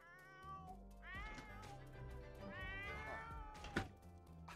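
A pet cat in The Sims meows in a series of drawn-out, wavering calls, quiet and close, with soft thumps between them and no talking.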